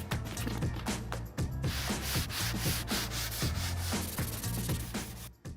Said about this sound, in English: So I'm gonna use a sanding block and try and sand this smooth.